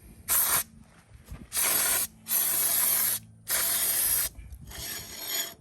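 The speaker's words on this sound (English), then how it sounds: "I do got some brake clean here I could probably put on it just to" Aerosol brake cleaner sprayed onto the front brake rotor of a Polaris Ranger 500, heard as four loud close hissing bursts of about half a second to a second each, with faint mechanical clicks in the gaps.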